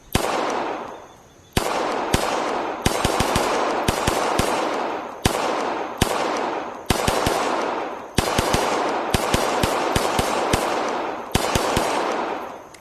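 A Staccato P pistol fires in the VR shooting game AceVR, with sharp shots in quick strings and single cracks separated by brief pauses, loud and close, with ringing reverberant tails and no talking.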